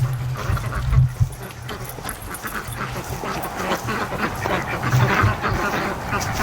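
Domestic ducks quack outdoors near a swamp while a dog keeps watch beside them, the calls a steady, busy chorus mixed with rustling ambience and low rumble throughout.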